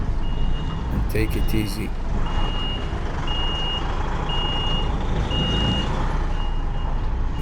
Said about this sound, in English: So once I get space, I have to reverse